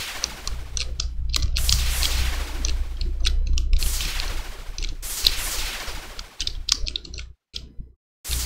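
Rapid bursts of retro-style bullet shots from the indie video game Retro Space Ball, bright crackling volleys repeating in quick succession, with short gaps of near silence near the end.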